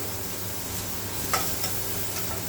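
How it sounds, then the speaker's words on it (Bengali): Chopped onions, salted and fried until reddish, sizzling steadily in oil with a soft even hiss and an occasional faint clink of a spatula, close and without talk. "দেখুন আমার পেঁয়াজ ভাজা হয়ে গেছে পেঁয়াজটা লাল লাল হয়ে গেছে"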